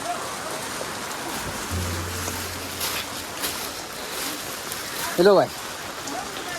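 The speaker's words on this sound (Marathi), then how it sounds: "पाऊस भरपूर आहे" Heavy rain hisses steadily on a trip to the Vaishno Devi temple, with a low hum running midway and a brief voice speaking near the end.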